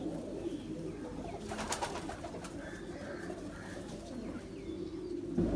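A pigeon coos softly and steadily at a distance over a continuous low background hum, with a few faint chirps from other birds and no voices.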